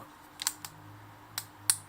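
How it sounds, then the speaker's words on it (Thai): Chuck of an IMAX Brushless 20V cordless drill being twisted by hand gives a handful of sharp, faint ratcheting clicks at irregular intervals over a quiet background. "ก็บิดให้มันดังแก๊กนะครับ"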